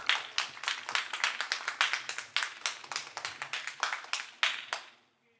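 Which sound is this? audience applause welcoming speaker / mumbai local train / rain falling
audience applause welcoming speaker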